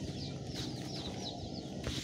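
Chickens cluck in a farm setting, a steady stream of soft, repeated clucks over a dense, noisy background, fairly close and continuous throughout.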